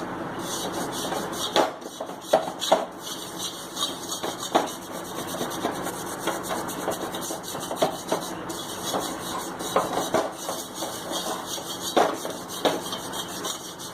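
An iron pan being scrubbed with salt while it heats, giving a continuous gritty rasping scrape with a rhythmic back-and-forth pattern and sharper scuffs every second or so, close and fairly loud, with no voices.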